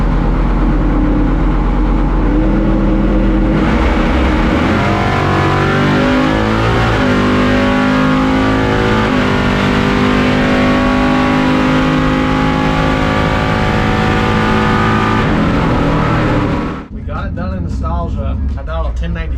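A 700 hp Chevrolet C10 truck makes a drag strip pass, its engine droning loud and steady with climbing revs for about fifteen seconds, then cutting off abruptly as the run ends and the brakes come on.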